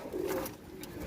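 A racing pigeon gives a single short, soft coo up close, alone with no talk.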